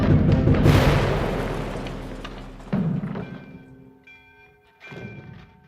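A single deep cannon boom bursts out and rolls away slowly, followed by a softer thud and ringing, distant tones as the sound fades.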